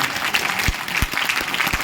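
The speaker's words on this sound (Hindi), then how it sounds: "एक बार जोरदार तालियां बजाकर मेरी बात पर मोहर लगाइए।" Audience clapping at a mushaira poetry gathering in Kanpur: a continuous rattle of many hands, fairly loud and close, with a few heavier thumps punctuating it.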